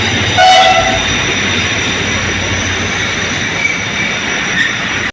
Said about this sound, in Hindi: ये आ गई ट्रेन, ये आ रही है ट्रेन